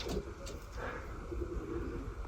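Soft, low cooing from nesting pigeons with eggs and newly hatched chicks repeats a few times, faint and muffled beneath a steady background rumble.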